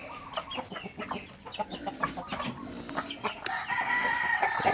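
A shamo rooster named Max crows and clucks on a small farm, with repeated sharp calls over a busy backdrop of other fowl, a sustained crow building toward the end.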